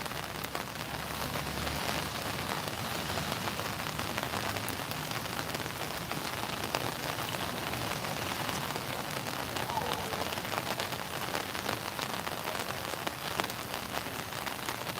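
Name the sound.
rain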